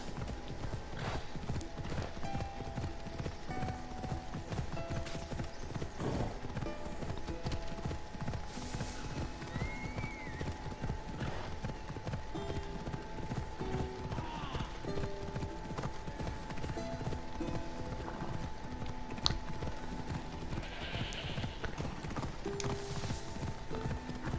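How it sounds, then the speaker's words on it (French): Horse hooves clip-clop steadily at close range through a 24-second stretch of Assassin's Creed Odyssey, with an occasional whinny and game ambience underneath. "Mon cheval."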